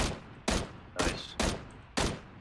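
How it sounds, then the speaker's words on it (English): Gunfire in the video game PUBG, five sharp, loud shots spaced about half a second apart, each with a short decaying tail, with no talking. "Somebody else is shooting at us."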